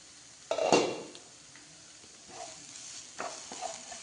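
A lid lifted off a pot of chicken and grated carrot, with a sharp metallic clank followed by fainter clinks and a light sizzle from the pan, nearby and otherwise quiet with no talk.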